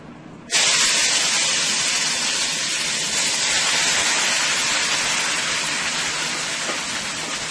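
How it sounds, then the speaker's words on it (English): Beef frying in a pan for a Guyanese spinach-with-beef dish: a loud, steady sizzling hiss bursts in abruptly and holds close and strong for several seconds, easing slightly toward the end. "We're going to go ahead and we are going to fry our beef until it's nice and tender"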